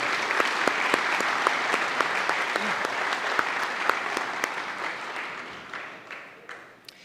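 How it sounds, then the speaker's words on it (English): A gala audience claps warmly, with dense, steady applause and crisp individual claps standing out, gradually thinning and fading toward the end. "I think it's worth a clap."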